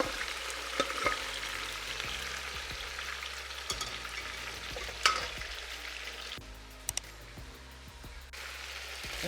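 Beef frying in ghee with aromatics gives a steady, moderately close sizzle, broken by occasional stirring clatters and a few sharp spatters, with no voices.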